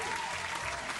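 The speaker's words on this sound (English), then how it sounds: "I'll clap it up for you for that" A short burst of dense clapping applause during a City of Heroes raid night livestream, loud and continuous for about a second, with a voice faintly underneath.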